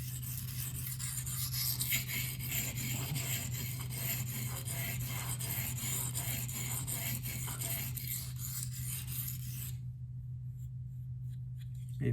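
A Rex45 steel blade is drawn across a coarse diamond sharpening stone in repeated scraping strokes, a close, steady abrasive rasp over a low hum that stops abruptly near the end.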